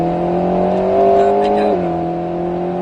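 Alpine A110 S sports car accelerating hard on a circuit in third gear, a steady loud engine drone with rising harmonics and a brief shift near the end, continuous and close throughout.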